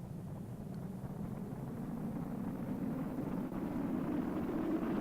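A spacecraft aerobraking in Kerbal Space Program produces a steady low rumbling roar, like wind buffeting, that holds constant and slightly swells over a few seconds.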